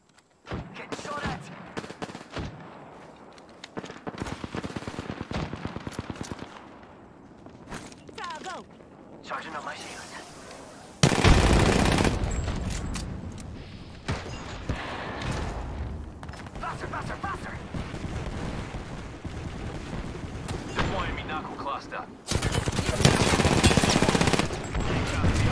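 Repeated bursts of gunfire in the battle royale game Apex Legends, volleys of sharp shots and rapid automatic fire across the stretch, with heavier loud bursts near the middle and end, while players talk excitedly throughout.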